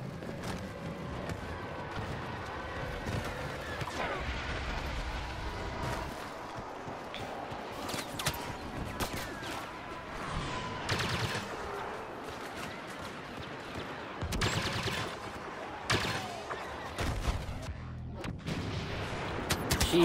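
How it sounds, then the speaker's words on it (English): Heavy blaster fire and explosions from a shooter video game crack and boom repeatedly over twenty seconds, a dense, irregular barrage of shots with louder blasts near the end and no speech. "Jeez, that explosion."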